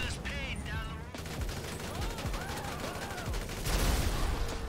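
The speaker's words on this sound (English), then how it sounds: "I was firing a gun" Rapid gunfire bursts in GTA V, sharp repeated cracks running almost continuously through the clip over steady game ambience, growing denser and louder toward the end.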